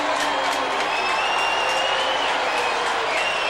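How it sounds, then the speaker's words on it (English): Stadium crowd at a 1987 Australian football match, Hawthorn against Essendon, with Hawthorn fans giving ironic cheers after a goal: a steady, broad wash of cheering and applause that holds loud for the whole stretch. "there will be ironical cheers if this is a goal from the Hawthorn fans"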